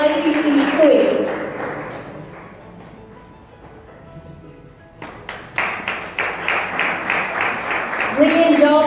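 Audience applause at a church Bible quiz prize ceremony in Kuwait, a burst of clapping building after a quiet stretch, with a speaking voice over the hall at the start and end.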